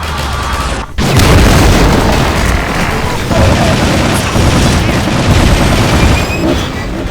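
In Half-Life 2: Episode Two, a rocket launches at a Strider near a sawmill, a loud booming blast followed by sustained rumbling gunfire and explosions that continue throughout.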